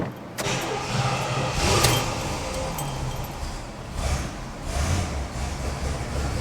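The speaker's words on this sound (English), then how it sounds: "So, like, it starts and runs really well" An Oldsmobile Toronado running on two-year-old gas, its engine turning over and settling into a steady idle with small swells in level, heard close and continuous with no talk.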